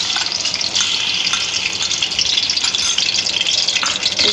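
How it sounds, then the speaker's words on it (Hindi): Garlic ginger paste sizzles hard in about half a cup of hot ghee for chicken macaroni, a loud, dense, continuous crackle close up with no voices over it. "इसको 2-3 मिनट भूनते हैं ताकि इसकी स्मेल जो है ना वो चली जाए"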